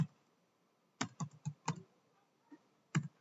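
Typing on a computer keyboard, heard as a few sparse, close key clicks in small bursts with short pauses between them against a quiet background.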